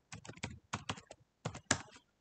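Bursts of clicky keystrokes on a computer keyboard, typed in three quick clusters with short pauses between, close and fairly quiet, with no talking.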